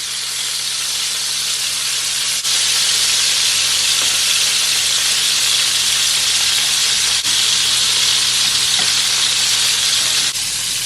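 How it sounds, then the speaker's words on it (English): Pork pieces browning in a hot pan for Jamaican brown stew pork give a loud, steady, close sizzle with a bright frying hiss that runs unbroken throughout, plus a few faint scrapes. "now I'm going to turn my pork. Nice and brown."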